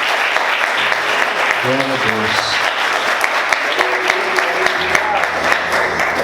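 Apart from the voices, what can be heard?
church congregation applauding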